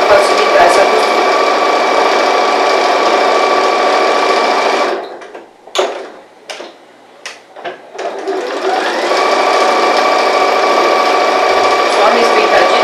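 Sewing machine stitching fabric for an organiser basket, a steady, loud motor whir running close, then stopping for a pause with light handling clicks before stitching resumes.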